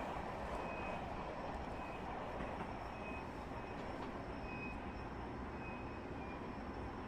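A Long Island Rail Road train rolls along the main line as it slows under braking, giving a steady broadband rumble with faint high tonal squeal traces throughout, heard from on board.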